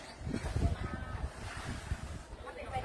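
Wind gusting outdoors in cold air, a broad steady rushing noise with low buffeting rumbles against the microphone that swells and eases throughout, with no speech.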